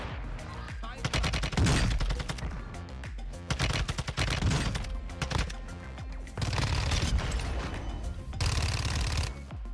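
Rapid bursts of TAQ-56 assault rifle fire in Warzone 2 crackle loudly in repeated volleys across the stretch, with short gaps between strings of shots and dense game action throughout.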